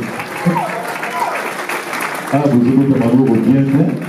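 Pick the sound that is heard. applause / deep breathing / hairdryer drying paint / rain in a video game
applause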